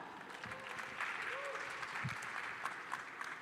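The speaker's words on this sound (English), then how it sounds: "Please give Jacob a big round of applause" An audience claps at the opening ceremony of ETHGlobal San Francisco 2024, with moderate, steady applause heard from a distance in a large room and quieter murmuring mixed in.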